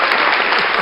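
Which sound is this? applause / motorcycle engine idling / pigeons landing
applause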